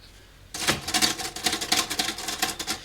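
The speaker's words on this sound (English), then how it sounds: "This is a typewriter that Sean thrifted." A thrifted manual typewriter being typed on indoors at home: a quick, uneven run of sharp mechanical key strikes starts abruptly after a brief quiet moment and continues close and clear, with no talking.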